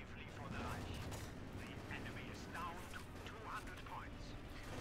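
Machine gun fire in Company of Heroes 2, quiet overlapping bursts of automatic gunfire and battle noise running under a steady stream of commentary talk.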